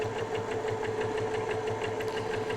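A sewing machine stitches close to the edge of a summer tote bag, a steady close-up mechanical whir with a quick, regular pulse of needle strokes running throughout without a break. No voices are heard.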